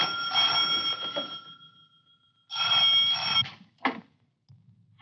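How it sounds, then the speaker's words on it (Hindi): An old telephone bell rings in two loud, jangling bursts separated by a pause, each ring a bright metallic trill, in a 1959 Bollywood film scene. "टेलीफोन आया है।"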